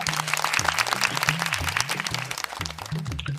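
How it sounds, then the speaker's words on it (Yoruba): A studio audience claps for a contestant on a Yoruba children's game show, scattered rapid clapping heard under a steady musical backing tone with faint voices mixed in. "Ẹ bá ń pàtẹ́wọ́ fún ó gbà"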